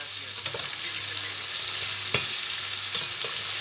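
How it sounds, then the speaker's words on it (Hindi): Onions frying in a pan for a bhindi and onion dish, with a steady bright sizzle throughout and a few sharp stirring clicks and taps, heard close up with no one talking. "प्याज को फ्राई इतना करेंगे कि इसका कलर चेंज हो जाए"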